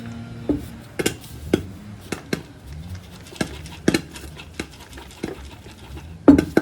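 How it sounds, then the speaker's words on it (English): Kernels of popcorn are stirred in a Joulle cooking pot, with scattered close clinks and scrapes against the pot and a louder knock near the end, and no talking. "I'll give it a little stir and see what's going on."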